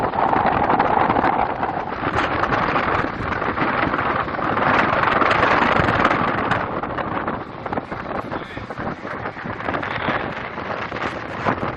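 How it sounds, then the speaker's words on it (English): Strong wind roars steadily across the microphone in loud, buffeting gusts at Niagara Falls, New York, with no voices, easing slightly toward the end. "super windy."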